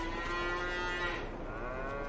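Cattle moo in the Farming Simulator game, one long drawn-out low call sustained and close, alone without talk.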